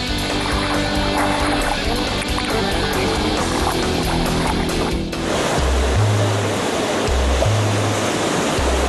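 Ocean waves wash and roll along a shore in a steady broadband rush, close and loud, with a low music-like drone and rhythmic low thumps coming in during the later seconds.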